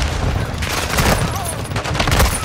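Dense, chaotic gunfire in a video game match, including shotgun blasts, forms a loud, continuous barrage of overlapping bursts with no clear gaps, and a voice talks underneath.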